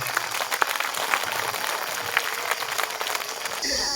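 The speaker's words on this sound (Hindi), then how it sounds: "जोरदार ताली धन्यवाद स्वरूप बजा देंगे" A school farewell ceremony audience applauding, a steady wash of clapping with a few sharper individual claps, moderately loud and continuous, ending as another sound cuts in.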